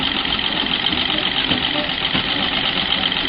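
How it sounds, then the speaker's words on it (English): A Singer 15K treadle sewing machine winding a bobbin gives off a steady, continuous mechanical whirring rattle, loud and close, with no pauses throughout. "Get the motion with the treadle and start winding the bobbin."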